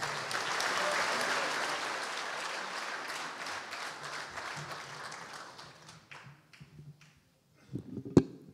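Audience applause at the St. Louis Sports Hall of Fame enshrinement of Randy Karraker, loud and dense at first, then thinning out and fading to near silence, with a few last claps and a knock near the end.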